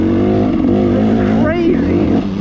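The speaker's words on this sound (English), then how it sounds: "You can hear, you can almost count the RPM right there." A VeeMoto Bulldozer ST motorcycle engine chugging at low revs on an off-road trail, a close, throbbing pulse heard under someone talking throughout.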